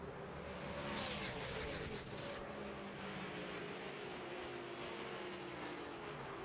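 NASCAR Nationwide Series stock cars roaring around Daytona under green flag racing, a dense, steady engine drone with one louder surge passing early on.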